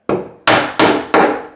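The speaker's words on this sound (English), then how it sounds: "You can use a mallet if you've got a mallet." Four loud, dead thumps of a heavy mallet driving a joint home on a wooden winding staircase during glue-up, spaced about a third of a second apart, each a sharp knock that fades quickly, with no talk.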